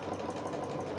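Domestic sewing machine stitching fabric for a peg bag, a brief steady whirring motor with a rapid mechanical needle rhythm, close and continuous.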